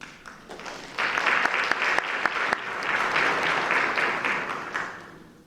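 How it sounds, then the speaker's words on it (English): Applause from a community forum audience for a fifth-grade student speaker, a few scattered claps swelling into full, sustained clapping that tapers off near the end. "Let's give her a round of applause"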